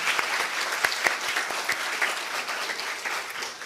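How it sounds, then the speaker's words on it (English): Audience at a Scottish Wildlife Trust members' day gives a warm round of applause for a staff member, dense steady clapping with a few sharper claps standing out, moderately near and fading slightly toward the end. "I thought I would like to give a round of applause to Claire."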